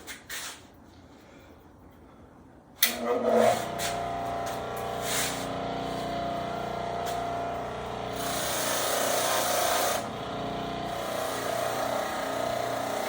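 A buffing wheel running against a woodworking chisel to hone its edge, a steady broadband whir and rub starting abruptly after a quiet opening and continuing with a brighter, harsher stretch midway.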